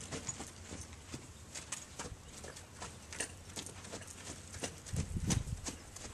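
A paint mare's hooves clip-clop in irregular steps over a soft ground, faint and fairly close, with a louder scuffling thump near the end and no talk over them.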